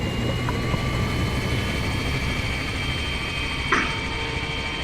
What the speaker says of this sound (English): So I'm gonna let the engines fire up.